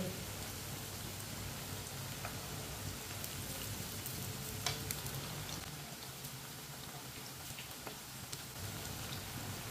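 Bottle gourd kababs shallow-frying in a pan, a faint, even crackling sizzle like light rain that continues throughout with small pops and no talk.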